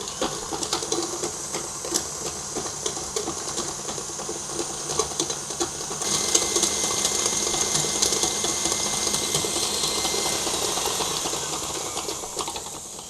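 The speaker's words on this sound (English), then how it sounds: "I'm going to add the sugar and beat this for about 5 minutes on medium high speed" An electric mixer beats butter and sugar at medium-high speed for eggless tart dough, giving a steady, close whirring with rattling and clicking from the bowl that grows slightly louder partway through.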